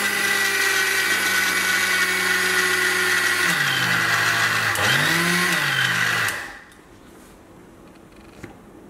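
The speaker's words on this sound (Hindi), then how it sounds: "अब आपने देखा कि हमने यहाँ पे इसको ग्राइंड कर लिया है, पाउडर हो गया है" An electric grinder pulverising roasted seeds into powder for alsi pinni runs with a loud, steady motor whine. Its pitch sags and wavers under load, then the motor cuts off and leaves near silence.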